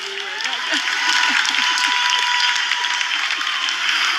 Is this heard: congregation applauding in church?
yes